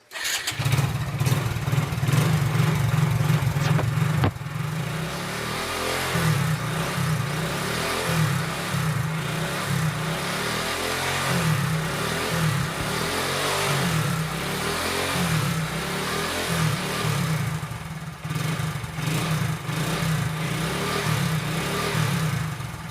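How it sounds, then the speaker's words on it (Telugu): A motorcycle engine idles steadily and revs in uneven bursts, close and loud, with no talking. "జస్ట్ ఇంజన్ అనేది స్టార్ట్ చేయాలి"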